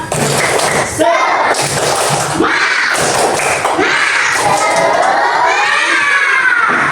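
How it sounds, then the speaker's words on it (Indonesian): Classroom children joining in a rhythmic clapping chant led by a teacher, loud overlapping young voices shouting and cheering with steady claps throughout. "Coba kita tepuk semangat sekali lagi."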